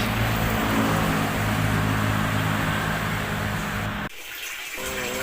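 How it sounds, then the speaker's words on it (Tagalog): Water runs steadily into a bath during a morning routine before work, a loud continuous broadband rush with low hum that briefly cuts out near the end and then resumes. "preparing for bath"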